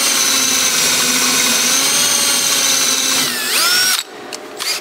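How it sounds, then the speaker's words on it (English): A power drill with a bent drill bit whines loudly and steadily for several seconds, its pitch sweeping up and down before it cuts off into short bursts. "I think this drill bit is bent."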